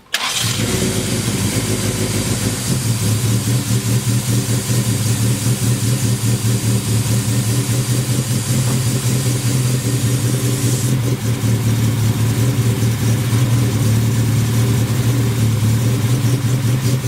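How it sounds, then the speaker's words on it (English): A budget track car's engine starts and then idles steadily, exhausting through a catalytic converter with no muffler. The raw exhaust drone is loud and continuous, close up, with no voices over it. "I figure I'd just start her up and see how much quieter it is now that it has at least a catalytic converter"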